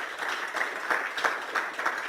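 A lecture audience at a Workers Memorial Day safety event applauds, with a steady patter of clapping and a few sharper individual claps standing out, moderately distant and even throughout.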